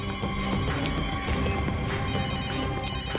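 A telephone bell rings insistently and loudly, with repeated bursts over a busy, dense background.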